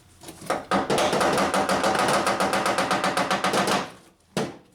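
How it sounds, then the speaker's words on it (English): Rapid, even tapping on a Honda power window regulator motor inside a door with a stuck window, a loud close rattle of dozens of evenly spaced knocks lasting about three seconds, followed by a single separate knock. "Tap on the motor, see if we can get it to work."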